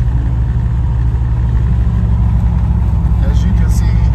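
A 1987 Chevrolet Monte Carlo Aerocoupe's engine drones steadily while the car is driven at highway speed, a continuous low rumble with road and wind noise that holds at an even level throughout.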